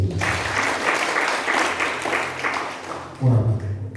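Congregation at a church worship service in Bali clapping for Jesus, a dense burst of applause that fades near the end as a voice comes in.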